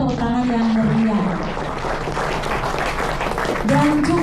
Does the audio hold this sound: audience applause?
yes